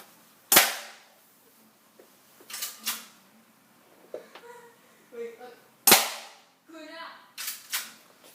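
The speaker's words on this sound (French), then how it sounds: "je vais faire quelques tirs. Bon tir. On va faire 3-4 tirs." A SIG Sauer SP 2022 pistol fires two loud, sharp shots several seconds apart at a shooting range, with people talking briefly between them.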